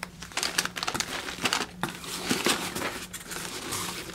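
Tissue paper crinkled and folded by hand while wrapping a small business order, a close run of irregular crisp rustles and crackles with short pauses, no talk.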